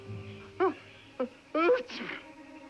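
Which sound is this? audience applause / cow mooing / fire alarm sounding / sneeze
sneeze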